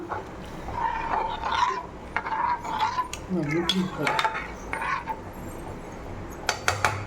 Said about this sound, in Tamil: தேவையான தண்ணி ஊற்றி நல்லா கலக்கிக்கலாம்